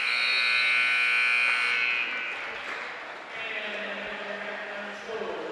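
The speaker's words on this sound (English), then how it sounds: "the buzzer ran out" A basketball game buzzer sounds as a sustained electronic drone in a gym, loud at first and then fading into crowd noise and arena murmur.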